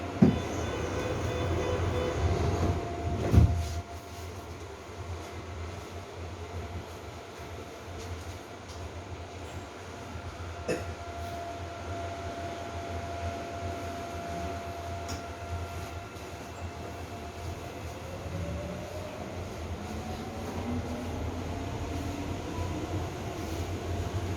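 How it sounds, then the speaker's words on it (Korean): A Shinbundang Line subway train departs Yangjae and rumbles steadily along the rails, with a low continuous drone, occasional clanks and rising whine of the motors as it gathers speed. "열차가 곧 출발합니다."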